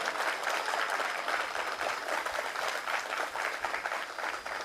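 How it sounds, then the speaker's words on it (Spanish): Crowd at the opening of a water purification plant in Iztacalco applauding the visiting head of government, a continuous, busy patter of many hands clapping at moderate distance, steady throughout. "que se oiga el aplauso a la jefa de gobierno"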